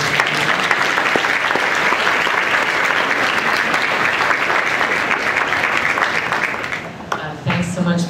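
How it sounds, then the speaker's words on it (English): Loud audience applause after a fifth-grade elementary school choir performance, thick continuous clapping that fades near the end as a voice begins speaking. "deserves a round of applause"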